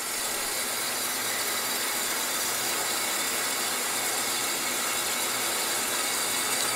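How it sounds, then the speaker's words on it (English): A brand-new Scotchman SH 1016 10-by-16-inch horizontal swivel-head band saw lowers its head at a fast feed, giving a steady, unbroken mechanical hiss and whir that holds level throughout with no voices. "put it into feed mode. And we'll put it at a pretty rapid feed just to show you the head coming down."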